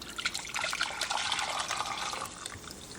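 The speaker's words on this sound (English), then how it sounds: "I'm gonna dump in our broth." Broth poured into a pan to start a gravy, a continuous bright splashing and trickling pour lasting a few seconds, close and alone, easing slightly toward the end.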